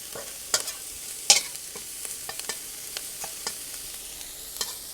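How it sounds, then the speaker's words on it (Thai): Red ant eggs dry-roasting in a pan, with sparse sharp pops and crackles spattering at irregular intervals over a quiet background, two louder snaps standing out early on. "ก็คงจะ รู้ถึงกลิ่นเวลาคั่วนะครับ กระเด็นแล้วนะฮะ"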